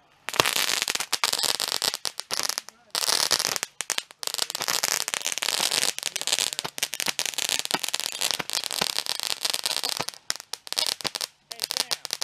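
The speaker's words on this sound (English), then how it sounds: "Sam, big Roman candle match. That's all they do" A big Roman candle fires off on the Fourth of July, a long run of loud popping shots and crackling bursts in rapid irregular succession with brief gaps, nearby and outdoors, without talk.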